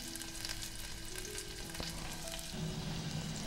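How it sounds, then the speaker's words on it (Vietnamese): Sliced shallots frying in rendered lard, a faint, steady sizzle and crackle of hot fat that continues evenly throughout, with no talking. "Mình phi hành với cái mỡ nước này"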